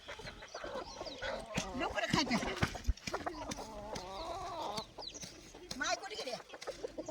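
A lame hen clucks repeatedly in short, irregular bursts close by while eating, with some background movement and other farmyard noise mixed in.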